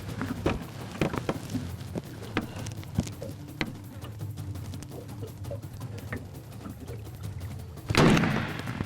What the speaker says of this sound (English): Good shot. He's hit. He's anchored.